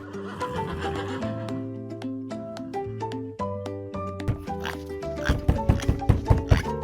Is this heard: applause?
no